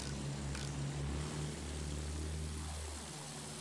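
A propeller airplane in Battlefield 1 drones steadily with a deep humming engine tone, then its pitch sweeps downward as it passes and recedes, faint and continuous.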